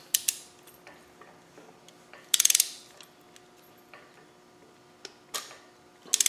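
Ratcheting clicks from a torque wrench tightening a nut on the cylinder head of a Land Rover 300Tdi engine, close and crisp, with rapid bursts of ratchet teeth separated by scattered single ticks.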